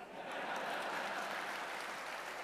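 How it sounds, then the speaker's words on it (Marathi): Audience applause at a school award ceremony, a dense, steady wash of clapping that swells in at the start and holds evenly throughout, filling the hall without any voices on top. "आणि बघा किती टाळ्या वाजल्या."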